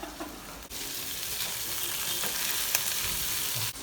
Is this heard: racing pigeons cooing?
no